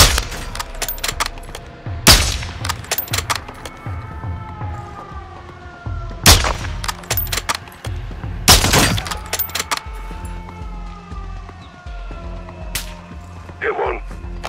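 Gunfire in the video game Call of Duty Modern Warfare II: several loud, sharp gunshot blasts at irregular intervals over a busy soundtrack of music, sirens and voices.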